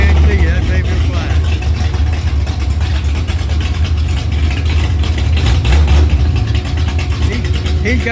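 Antique car with a loud open-manifold exhaust, engine running close by with a steady low rumble under ongoing outdoor chatter and crowd noise.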